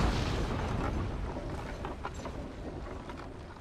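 Artillery cannon fire in a Napoleonic battle from Napoleon: Total War at the Pyramids rolls as a dense, rumbling barrage of overlapping distant booms, loudest at the start and slowly fading, with scattered sharper pops.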